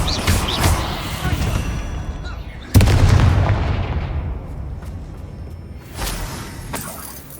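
Bombarda and Confringo spell blasts in Hogwarts Legacy go off in quick succession: a loud sudden explosion with a long shattering decay, then a second burst near the end, over dense rumbling game noise and clattering debris.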